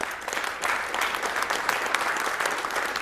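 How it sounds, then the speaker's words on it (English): An audience at Awesome Games Done Quick 2015 claps and applauds steadily for a few seconds, a dense patter of hands without cheering. "Another round of applause for all our arcade players."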